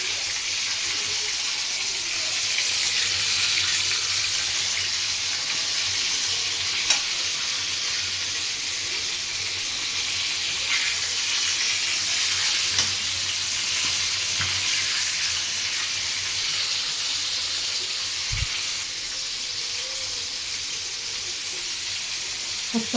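Breaded cutlets (pané) frying in hot oil give a steady, dense sizzle that stays loud and even throughout, with a few faint clinks and no talking.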